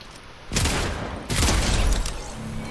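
Bursts of video game gunfire arrive in two loud, close volleys of rapid shots and booms, the second longer and sustained, with no talk over them.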